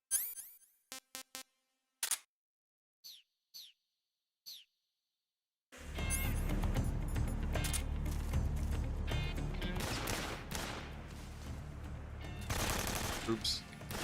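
Short bursts of automatic rifle fire in the stealth video game Metal Gear Solid 3, several sharp clipped volleys at the start, followed by a loud sustained stretch of game sound with dense crackling activity.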